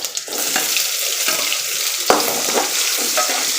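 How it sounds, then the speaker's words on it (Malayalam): Chopped onions and mustard seeds sizzle and fry in coconut oil in a pan while being stirred, giving a steady close hiss with scraping and a few sharp clicks of the utensil, no talk. "നല്ല കണക്ക് വഴറ്റി കൊടുക്കാം."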